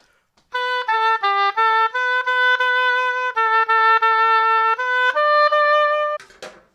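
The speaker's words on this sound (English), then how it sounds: "so we put it into the rest of the tube, and it sounds like this" A solo oboe plays a slow, sustained melody of clear reedy notes, steady and fairly loud, ending with a brief clatter.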